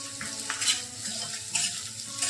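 Capsicum and onion stir-fried over a medium gas flame, a steady sizzle with stirring scrapes and brief bright bursts of spatter, close and moderately loud, no voices.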